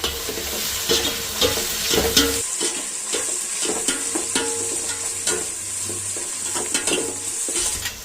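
Onions frying in a pan for ghee rice, a dense steady sizzle close by with repeated stirring scrapes and clinks throughout, and no one speaking.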